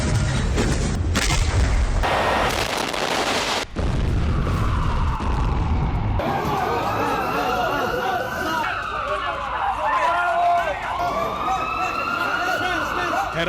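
Heavy blasts and rumbling booms from bunker-buster bombs striking Gaza, with a rising and falling siren wail over continuous loud roar; voices are present under the din.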